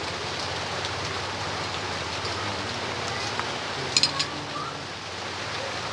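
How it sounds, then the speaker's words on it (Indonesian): Steady rain falling outdoors during cooking of grilled duck, a dense even hiss with a few sharper drips and light taps, fairly close and continuous. "Walaupun ini kena bumbunya hujan"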